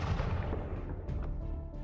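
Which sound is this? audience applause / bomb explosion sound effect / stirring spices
bomb explosion sound effect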